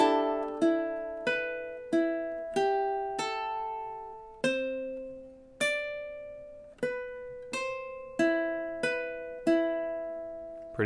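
The theme from The Exorcist is picked on a ukulele in steady time. Distinct notes and an opening chord ring out close and clean, each note fading before the next, with no voices over the music.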